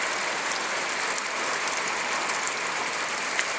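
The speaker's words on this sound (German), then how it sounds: "mein erster Regen im Mai in Portugal" Light May rain in the Algarve, Portugal, falls as a steady, even hiss of drops on surfaces, with no voices.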